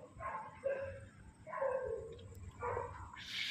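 A Siberian Husky at a dog farm house barks in three separate bursts of yelping barks with whimper-like tones, fairly close and clear over a low background hum.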